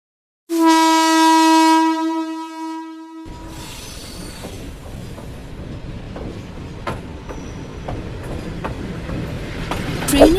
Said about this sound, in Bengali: গাড়ির হর্নে ঘুম ভাঙতেই